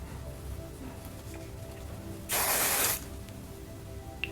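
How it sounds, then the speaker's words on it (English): Hairspray from a can gives one short, soft hissing burst of under a second, sprayed lightly over the surface of a styled French roll against a quiet room background. "So I'm gonna just lightly take my hairspray,"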